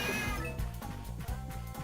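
A cat meows in the Gex 3 video game, a couple of short cries over a steady layer of game music and low rhythmic beats, fairly close and clear.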